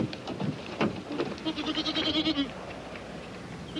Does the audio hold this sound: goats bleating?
yes